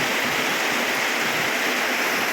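Floodwater from heavy rain rushes past like a swollen stream, a constant, loud, even roar of moving water up close with no breaks.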